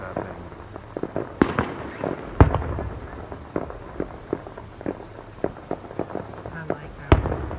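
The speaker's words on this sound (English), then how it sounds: "Look at all the fireworks coming out of that thing." Fireworks at an outdoor show burst in a rapid, irregular series of sharp cracks and booms, some close and loud, with voices talking now and then between the bangs.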